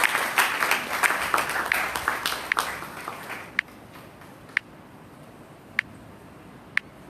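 A church congregation at an Assemblies of God Sunday school service applauds with dense, lively clapping for about three seconds, then it fades out to a few isolated claps.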